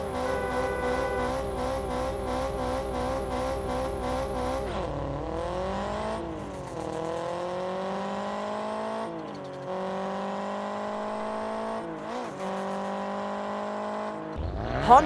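Subaru WRX engine in the Car Parking Multiplayer mobile game, revving up and down through several gear-like sweeps, with a brief tire squeal near the end; synthetic-sounding, steady and alone.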